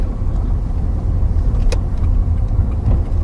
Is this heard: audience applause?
no